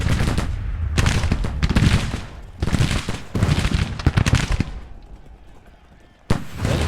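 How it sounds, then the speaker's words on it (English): Heavy, repeated bursts of Gatling gun fire in a Civil War battle game, loud rattling volleys broken by brief pauses and ending in one sharp late burst, with booming battlefield noise around them. "Do I hear Gatling guns here?"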